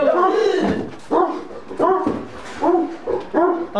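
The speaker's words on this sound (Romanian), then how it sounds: "Am stresat câinele." A stressed dog barks and whimpers at close range, giving a rhythmic run of about six loud, whiny yelps in quick succession.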